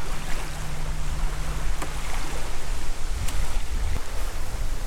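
Waves lap and rush around a kayak on a river in the Wisconsin Dells, a steady close wash of water with a few light knocks against the boat.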